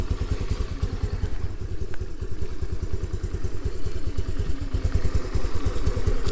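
A 2022 Honda NAVI engine idles with a steady, even, rapid thumping pulse, close and continuous throughout, with no voices.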